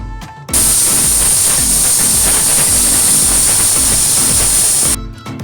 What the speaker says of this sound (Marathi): कुकरची अगदी व्यवस्थितपणे मी वाफ काढून घेतलेली आहे